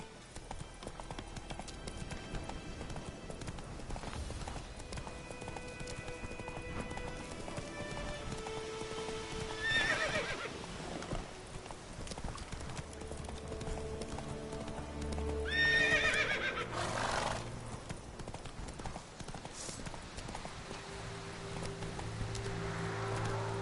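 Roach the horse galloping with rapid clip-clop hoofbeats and giving several whinnies in The Witcher 3: Wild Hunt, with a steady rhythmic gait over faint ambient game noise.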